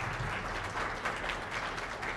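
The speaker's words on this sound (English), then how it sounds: "let's give them all a big round of applause for the first round" An audience claps for candidates after a first round of a live evening contest, a steady, even wash of many hands applauding throughout, moderately distant and without voices over it.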